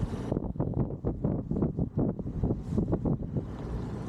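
Steady, gusty 18-knot wind roars across the microphone with rumbling buffeting throughout aboard a sailing boat approaching Portland Marina.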